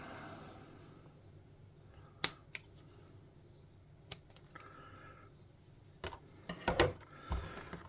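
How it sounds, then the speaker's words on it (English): Scissors snip excess material off a handmade tabletop gaming windmill in a few sharp, isolated cuts spaced apart, close and quiet, with a cluster of handling clicks toward the end. "we're just going to snip off the excess"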